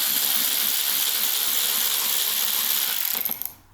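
Steady metallic ratcheting of a hand ratchet backing out Torx screws with washers from the front of a 2023 Ski-Doo Backcountry X Gen 4 snowmobile hood, continuous and close for about three seconds before a few last clicks and quiet.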